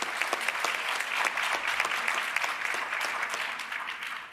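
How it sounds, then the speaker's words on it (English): An audience at a youth climate dialogue applauding, a dense sustained wash of clapping from many hands that holds steady throughout, with no talk over it. "The audience loves to clap."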